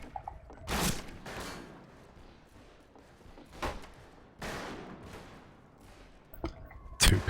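Two pistols firing in a video game, a handful of sharp isolated shots spaced irregularly over a quiet, muffled background, the last one loudest.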